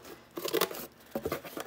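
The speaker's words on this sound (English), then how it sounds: "So I'm going to cut a piece of cardboard" A piece of cardboard is cut by hand in two short, close, rasping bursts with a brief gap between them.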